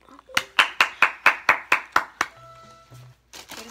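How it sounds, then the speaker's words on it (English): A round of applause from one or a few people nearby, nine sharp claps in a quick even rhythm, then a pause with brief tonal sounds and a few more scattered claps at the end. "let's end it off with a round of applause"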